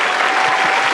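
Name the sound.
applause sound effect from a clap button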